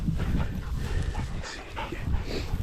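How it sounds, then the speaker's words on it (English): Several dogs sniffing and snuffling through long grass for scattered bits of biscuit, close by, with soft panting and a faint whimper among the rustling. "when they sniff like that and they're really seeking something out"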